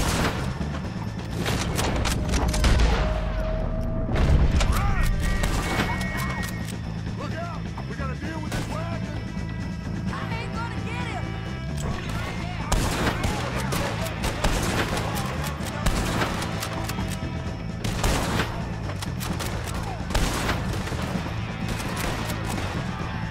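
Gunfire in the Red Dead Redemption 2 mission "Goodbye Dear Friend", with repeated sharp shots and bursts scattered across a steady bed of game music and ambience, some cracks louder and closer than others.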